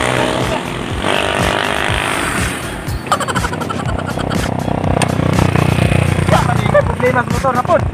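A motorcycle engine with a fault, running loud and rough close by, its uneven sputtering putter mixed with clattering and voices talking over it.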